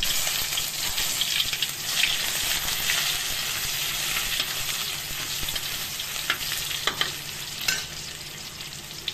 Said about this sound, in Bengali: সরষের তেলে কালো জিরা ফোড়ন দিলাম, আর একটু পেঁয়াজ কুচি দিয়ে